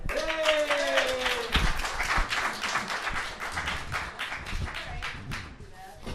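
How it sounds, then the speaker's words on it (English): A small audience at a book reading claps to welcome the speaker, a burst of distinct close hand claps following a spoken introduction and thinning out toward the end. "Give him a big round of applause, Domenic Priore"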